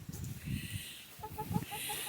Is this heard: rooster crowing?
yes